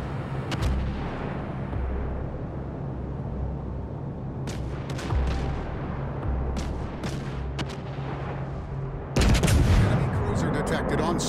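Heavy naval guns from World of Warships: Legends boom over a steady low engine rumble, with a few sharp reports midway and a loud barrage near the end, while a voice speaks intermittently.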